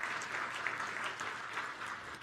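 Steady applause from an audience for drone operators at a policy talk, an even spread of many hands clapping at moderate loudness throughout, with no voices over it.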